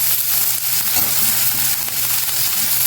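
Thinly sliced onions and green chillies hit hot oil already holding mustard seeds and cumin, a dense, steady sizzle with crackling spatter close by, no voices.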